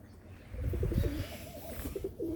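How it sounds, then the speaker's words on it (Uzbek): Pigeons coo softly as they rise into the air, low throaty calls repeating in short bursts over faint background noise, fairly quiet and close by. "Kaptarlar sekin ko'tarilyapti."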